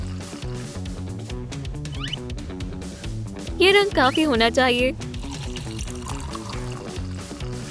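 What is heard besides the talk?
water being poured and mixed into paint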